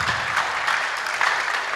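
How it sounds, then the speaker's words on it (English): Soft, steady applause from a tech conference audience, fairly quiet and even throughout, a brief wash of many hands with no voices on top. "A round of applause for her, please."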